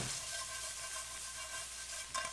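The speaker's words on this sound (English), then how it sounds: "let's just add some shrimp in here" Shrimp, poached beforehand in lemon water, hitting a hot pan of frying rice for Polynesian fried rice, giving a steady, close broadband sizzle with light stirring scrapes throughout, no voices.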